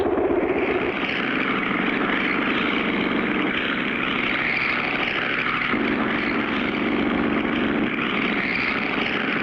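A cartoon propeller plane fitted with pontoons drones steadily overhead, a continuous buzzing engine and airscrew roar holding at an even, fairly loud level throughout with no talk.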